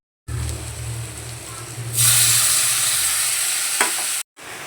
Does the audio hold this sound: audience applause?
no